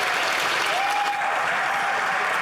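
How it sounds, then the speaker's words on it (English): Dense, sustained applause fills a legislative chamber, Canada's House of Commons, as many members clap steadily and loudly throughout. "I don't like this clapping"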